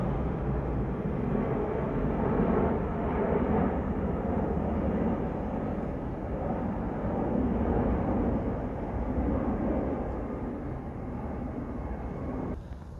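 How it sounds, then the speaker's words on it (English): A low-flying airplane passes overhead on a wooded mountain trail, a broad sustained roar that swells and fades slowly with no speech. "There's another plane right there. That one is really low."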